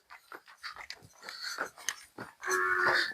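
A buffalo at a Punjabi dairy sale is heard close by, with soft chewing and breathing sounds followed by a short, loud low moo near the end.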